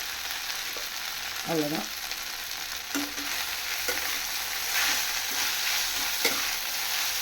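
Leftover idli crumbled into sautéed onions sizzles steadily in a pan, with a spatula scraping and stirring in short strokes over the continuous frying hiss while a voice briefly speaks.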